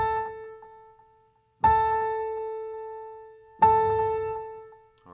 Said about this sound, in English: It's sort of a brighter,